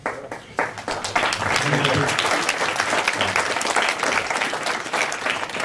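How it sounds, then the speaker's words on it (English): Sustained audience applause at a live talk and reading about Joey Ramone, dense and loud clapping from a crowd filling the whole stretch after a brief softer start. "Please don't hold your applause."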